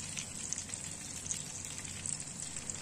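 Chicken spring rolls fry gently in oil over a low flame, giving a steady, soft continuous sizzle with fine crackling bubbles throughout.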